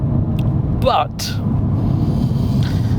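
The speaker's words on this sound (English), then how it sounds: "a 90-degree V6 is an odd thing. And it doesn't sound happy, does it?" An Alfa Romeo Giulia Quadrifoglio's 90-degree V6 drones as a steady, loud low rumble from inside the cabin, while a voice briefly speaks over it.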